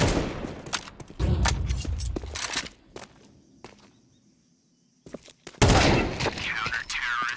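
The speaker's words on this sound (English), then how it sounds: "They are just shooting hard right now." Bursts of rapid gunfire from a Counter-Strike match at ESL Pro League Season 22 crackle in dense volleys, drop to a near-silent lull, then return loud and sustained.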